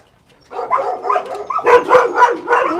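Dogs kept on a South Korean dog meat farm bark and yip in a quick run of loud, close barks after a brief silence, several overlapping calls with whimpering tones.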